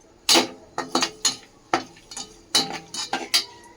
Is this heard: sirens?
no